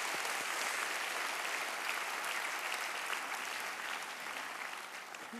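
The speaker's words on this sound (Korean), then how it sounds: "우리 하나님 앞에 감사와 영광의 박수를 한번 올려드리겠습니다" A congregation at a Sunday church service applauds in thanks, a dense, steady wash of many hands clapping together for several seconds, heard from within the room and easing slightly toward the end.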